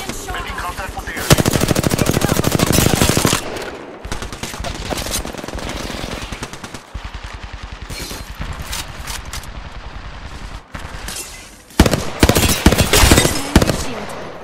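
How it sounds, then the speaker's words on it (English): Loud bursts of rapid automatic gunfire in Apex Legends batter the player, long rattling volleys with brief pauses between them and occasional voice lines in the mix. "I'm getting shot!"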